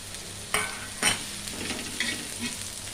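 Greens sizzle steadily in a hot pan while a utensil stirs, with a few scraping knocks against the metal.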